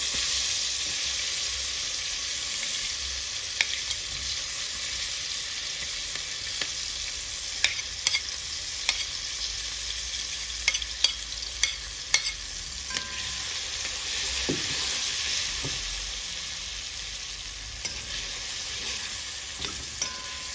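Steady, hissing sizzle of seasonings frying in a hot pan for Jamaican steamed fish, with occasional sharp pops and crackles and a faint scrape of stirring throughout.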